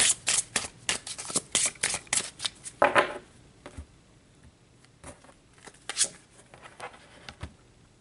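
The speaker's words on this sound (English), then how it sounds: "Let's just pull a card here" Tarot cards shuffled and pulled from a deck, a rapid series of crisp riffling slaps and flicks, loud and close, then a few softer card snaps and slides after a pause, with no talking.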